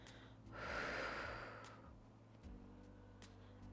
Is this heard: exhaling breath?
yes